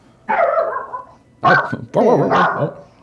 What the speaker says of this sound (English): Oh no, the dog got in.